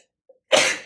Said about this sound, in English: I feel like a sneeze is coming.